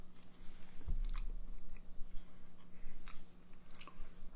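Someone chews a small taste of homemade hummus made from peeled garbanzo beans and peanut butter, soft close-up mouth sounds and quiet squishy bites, faint and intermittent, with no talking.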